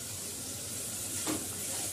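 Boal fish curry stirred in hot oil with turmeric powder, a continuous close sizzle and hiss with a soft scrape of the spoon swelling briefly midway, no voices over it.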